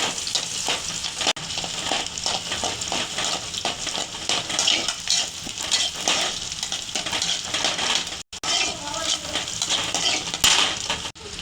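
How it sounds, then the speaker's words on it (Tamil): Onions fry in hot oil with a continuous loud crackling sizzle, with a few brief breaks and occasional stirring scrapes. "இப்போ எண்ணெய் சூடாகிடுச்சு பாருங்கள். வெங்காயம் போட்டுக்கலாம்."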